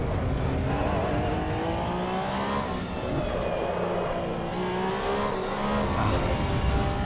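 Sim-racing Porsche GT3 Cup car lapping Oulton Park in Assetto Corsa EVO, a loud continuous engine note climbing and dropping through gears as it brakes and accelerates, with no voices.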